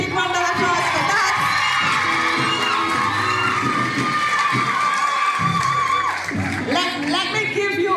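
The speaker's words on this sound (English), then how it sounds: "So come on, give her a big round of applause for that." Loud crowd cheering, whooping and shouting with applause at a secondary school graduation ceremony, a continuous roar of voices filling the whole stretch.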